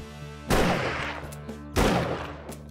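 Two loud, sharp rifle shots from 7 Days To Die ring out about a second apart, each followed by a long echoing decay, with no talk over them.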